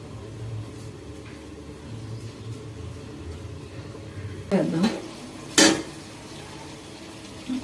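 Chicken stirred into a pan of cooked onions and garam masala paste, with a steady low rumble and two distinct scraping clatters of a utensil against the pan near the end.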